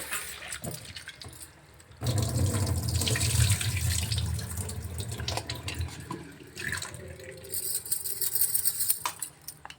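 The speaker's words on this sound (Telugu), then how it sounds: "ముందుగా కడిగి చింతపండు నీట్గా కడిగి" Tamarind is rinsed under running tap water at a kitchen sink: a soft trickle first, then a fuller gush of splashing water, with light handling clinks as it tapers off.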